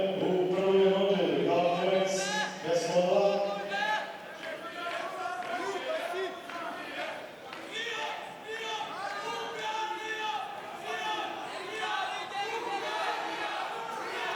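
Turkish fans in the crowd at a Greco-Roman 130 kg wrestling bout, many voices chanting and shouting together in a hall, with a commentator talking over the steady crowd noise.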